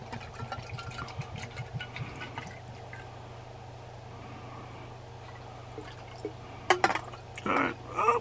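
Scented liquid is poured into an Aromatech AromaPro diffuser, giving quiet trickling and a few soft drips, then fainter splashy bursts near the end.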